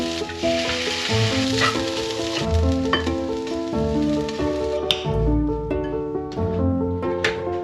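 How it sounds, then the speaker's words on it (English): An egg frying in a pan for fried rice in a home kitchen, a steady loud sizzle running throughout with a tonal hum and clinking beneath, no talking. "I am frying the egg."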